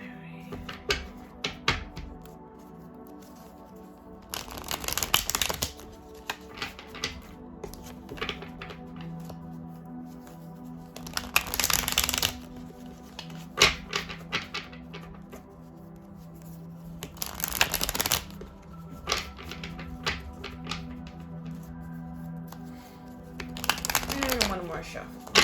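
Oracle cards shuffled by hand in repeated bursts of papery riffling and flapping, four distinct rounds spread across the stretch, close and fairly loud, with a steady background hum between them.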